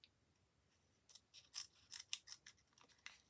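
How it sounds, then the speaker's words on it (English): Scissors snip through craft adhesive foam pads with the backing left on, a run of crisp, close cuts in quick irregular succession after a quiet opening second. "when you're cutting your pads, leave everything on. Then your scissors don't get sticky."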